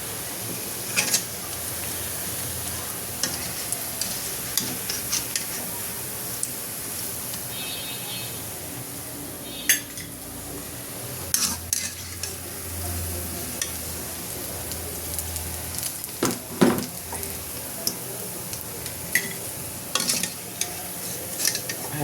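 Pitha fry in hot oil with a constant close sizzle, broken by scattered clatters and scrapes of a utensil against the pan.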